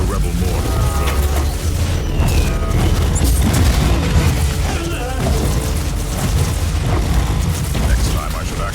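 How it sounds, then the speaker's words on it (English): Rebel mortar artillery striking an Imperial fort in Warhammer 40k: Martyr, a loud continuous barrage of booms, crashes and rumbling explosions layered together with no letup. "their mortars attack the Imperial fort with artillery fire"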